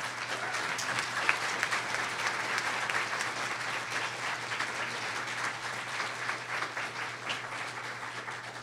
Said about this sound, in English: let's have a round of applause for the panel first